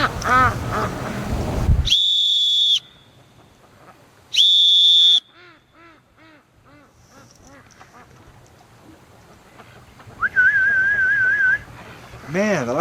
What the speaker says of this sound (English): Let's try this new whistle out.